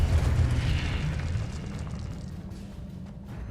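A Confringo spell explosion in Hogwarts Legacy, a deep rumbling blast that fades steadily over a few seconds.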